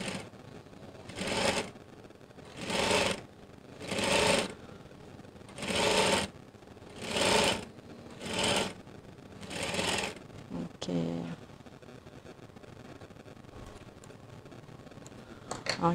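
A sewing machine stitches a skirt zip in about eight short bursts of rapid whirring, each a second or so long with brief pauses between, close by, followed by quieter handling sounds.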